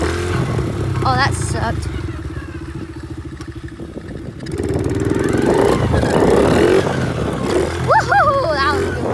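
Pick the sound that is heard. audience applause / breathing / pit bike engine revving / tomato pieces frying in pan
pit bike engine revving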